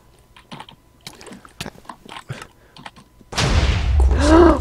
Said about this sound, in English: smash your keyboard on the desk